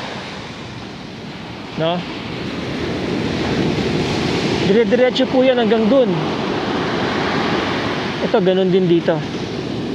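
Ocean surf washes continuously onto an eroded beachfront in a broad, steady roar with wind buffeting the microphone, while people talk over it at close range.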